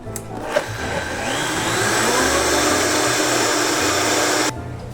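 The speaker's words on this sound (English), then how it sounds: "we're going to put it right in the blender to infuse all the oils of the herb and the garlic" Kitchen blender whirs through tarragon, roasted garlic and oil in one loud, continuous burst of about four seconds, the motor pitch rising as it spins up, then it cuts off abruptly.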